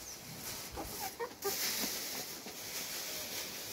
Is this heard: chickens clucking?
yes